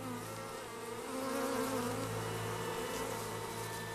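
Bees buzz steadily around honey in a hive, a continuous close droning hum that holds at an even level throughout with no voices.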